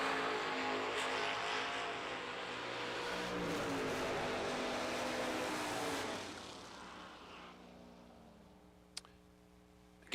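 Drag racing pickup and Camaro launching down the strip, a loud sustained engine roar that holds for several seconds, then cuts off and fades into quiet with a sharp click near the end.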